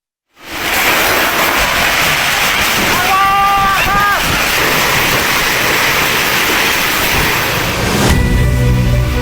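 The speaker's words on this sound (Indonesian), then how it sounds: "Rekaman video amatir ini merekam saat angin puting beliung menerjang sejumlah desa di Kecamatan Leces, Kabupaten Probolinggo, Jawa Timur." Tornado winds strike villages in Leces, Probolinggo, East Java, as a loud continuous roar of wind buffeting the microphone with a brief voice rising midway through.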